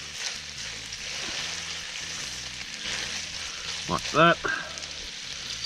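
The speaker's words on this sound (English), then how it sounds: "Stir this bacon through a bit. Get some of that bacon infused oil through there." Bacon frying in its own rendered oil in a camp kitchen pan, a steady close sizzle running throughout while it is stirred, with a brief louder scrape and clatter near the end and a short spoken remark.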